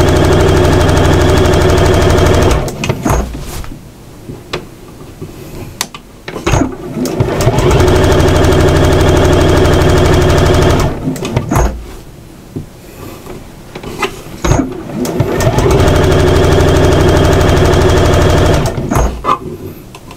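A sewing machine stitches through the layered strap and folded hem of an apron in loud, rapid, close bursts of several seconds each, separated by short pauses with clicks and handling noises.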